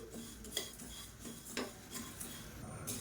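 Flattened rice (aval) is dry roasted in a pan until crisp while a spatula scrapes and stirs it. The scraping is faint, with a few sharper clinks against the metal in an irregular rhythm.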